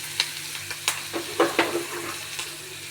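A pan of grated carrot and chillies frying with turmeric, giving a soft sizzle under a spoon that scrapes and stirs in a loose, uneven rhythm of taps.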